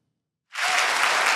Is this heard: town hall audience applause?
yes